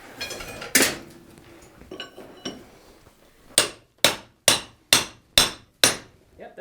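Metal hammer blows ringing on hot steel at a forge, a few scattered strikes then six sharp, evenly spaced hits, close and loud.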